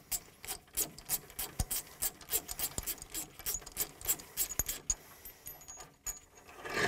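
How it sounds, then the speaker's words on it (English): Metal scraping and ratcheting as a 22mm wrench loosens a bolt on the gauge wheel arm of a Väderstad Tempo seeding unit, a dense run of short rasping strokes and light clinks, close and fairly quiet, with no voices. "Here you need a 22mm nut to loose this bolt."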